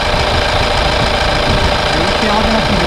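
Engine of a used Hyundai Maxcruz running at a steady idle, a loud, continuous and even rumble heard up close.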